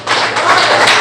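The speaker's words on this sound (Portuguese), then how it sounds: "dá uma salva de palmas para Jesus" A church congregation claps briefly for Jesus during a sermon, a short, close burst of many hands lasting about a second.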